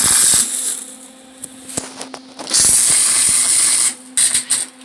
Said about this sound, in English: I'm gonna re-weld that and make it really deep.